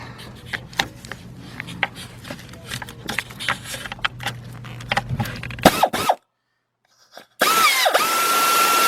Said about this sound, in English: So what I'm going to do here, got my air ratchet. See if we can get in there with the air ratchet and do that real quick.